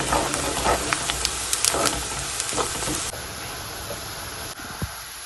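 Onion with ginger garlic paste frying in a pan for a mushroom pepper fry, a steady close hiss and sizzle with a few stirring scrapes, loud at first and then easing into a quieter sizzle.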